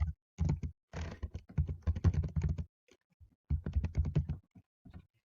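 Someone types a card number on a computer keyboard: irregular runs of close key clicks with short gaps and one longer pause before a final flurry.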